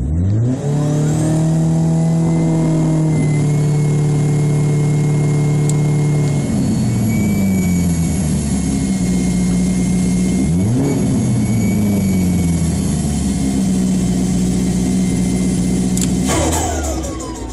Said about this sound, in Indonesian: yang bikin turbonya bisa mengeluarkan suara seperti ini